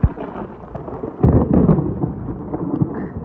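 Deep thunder rumbles close by during a rainstorm, swelling into a heavier roll partway through and lingering as a low, continuous growl.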